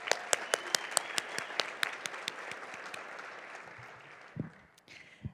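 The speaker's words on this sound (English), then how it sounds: "how about a huge round of applause for Derek Cheney" Luncheon audience honoring girls and women in sports gives a round of applause, crisp claps thinning and fading out over several seconds, followed by faint room noise and a brief low thump near the end.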